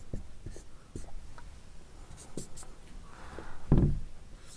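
Pen strokes writing a formula for a triangle's semi-perimeter during a Class 8 maths lesson, heard as faint, scattered scratches in a quiet room, ending with one louder tap.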